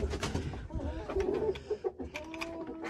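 Hens in a backyard flock, one of them an Americana, cluck and coo close by in a busy, overlapping series of short calls with some rustling around them.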